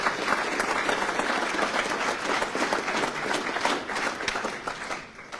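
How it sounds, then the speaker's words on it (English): At a meet-the-candidates forum, the audience applauds the candidates with thick, continuous clapping that holds evenly, then tapers off near the end. "let's have a round of applause for all the candidates and issues"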